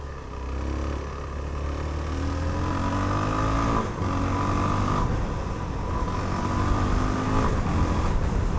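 Suzuki DR-Z4SM motorcycle engine, noticeably quieter than the older DRZ400SM, runs close and steady, with a droning tone whose pitch rises and falls as the throttle is worked, and no one speaks.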